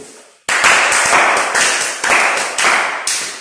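Pupils in a classroom start clapping after a brief quiet moment, a sharp burst of loud, close hand claps in uneven groups that rise and fade in waves.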